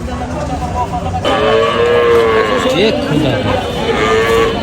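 A cow moos loudly and close by at a cattle market, a long drawn-out low call with rising and falling pitch, over a busy outdoor crowd and chatter.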